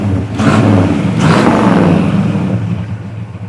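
A 1968 Pontiac GTO with its 400 cubic inch V8 and dual exhaust revs up loud and close, with two sharp throttle blips that settle into a deep, rumbling burble.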